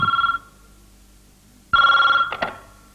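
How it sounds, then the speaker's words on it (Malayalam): A telephone bell rings indoors in two loud bursts separated by a short pause, with no talk over it. "ആ നീ ആ ഫോൺ നിർത്തേ."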